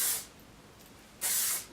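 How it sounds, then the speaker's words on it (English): Two short hissing bursts from a hairspray can sprayed onto hair, close by, separated by a brief quiet pause. "So it's just a light spray all over the hair."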